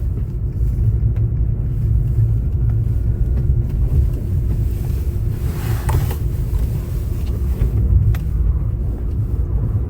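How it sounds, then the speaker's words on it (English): Snowmobile engine in remote snowy Alaska, a steady loud low rumbling drone that holds throughout with a slight swell midway, no talking. "Snowmobile."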